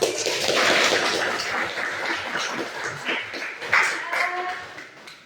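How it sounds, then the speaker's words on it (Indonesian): Students in a classroom clap their hands together in a rapid burst. The clapping is busy and roomy at first, then thins out, and voices can be heard mixed in. "Kita tepuk tangan dulu."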